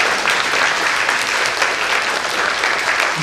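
Lecture audience breaks into dense, even applause after the talk, a continuous wash of many hands clapping with no voices over it.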